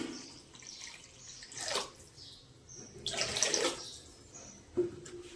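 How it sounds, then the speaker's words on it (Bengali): Water poured into a simmering prawn malai curry in a kitchen, heard as two or three short splashing pours with quieter gaps between them. "এবার পরিমাণ মতো জল দিয়ে দেবো।"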